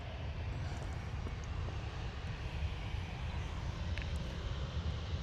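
EasyJet Airbus A320 jet airliner on a flight to Belfast from Manchester Airport, a low continuous engine rumble at some distance, fairly faint and even, without voices.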